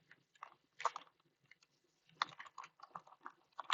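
Quiet typing on a computer keyboard while entering values into an Excel spreadsheet, irregular bursts of soft key clicks separated by short pauses, close and alone.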